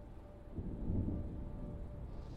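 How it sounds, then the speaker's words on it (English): Thunder from an approaching storm rolls in as a single deep, muffled rumble that swells after a quiet start and slowly fades, distant and low. "There's a storm coming."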